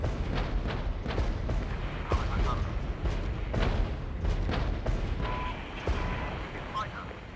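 Relentless artillery barrage in the strategy game Regiments, a dense run of booming impacts and broadband blasts every half second or so over a steady rumbling din, near and loud.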